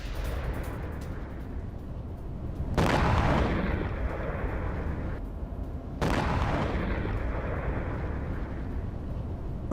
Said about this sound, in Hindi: अगली तस्वीर, शॉपिंग मॉल में जबरदस्त विस्फोट का दावा।